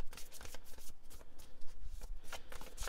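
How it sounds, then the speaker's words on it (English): Tarot cards being shuffled in a quick run of riffling, flapping bursts, close and fairly loud, with no talking over it. "Let's give a quick shuffle to this and pull a card for that."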